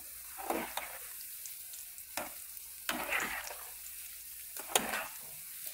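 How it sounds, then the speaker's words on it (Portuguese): Frozen party snacks fry in about a litre of hot oil, a soft steady sizzle with bubbling bursts that flare up at irregular intervals as they are stirred, quiet and close. "pode tirar direto do congelador e colocar na fritura"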